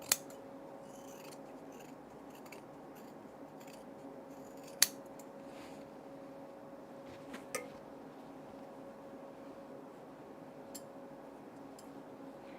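Scissors snip through pattern material for a tool case in a few sparse, sharp cuts over a quiet background hum, the clicks spaced irregularly and faint.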